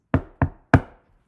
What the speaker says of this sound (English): The monks knocked on the door of the first house.